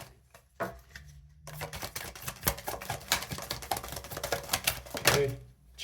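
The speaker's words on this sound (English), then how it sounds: "I shuffle these cards to death" A deck of tarot cards is shuffled hard and fast, giving a dense run of close, crisp riffling clicks and slaps that builds after a short pause and continues for several seconds before cutting off.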